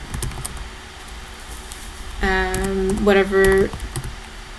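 Light clicking of keys on a computer keyboard while a domain name is entered, soft and scattered, with a person speaking over the keystrokes partway through.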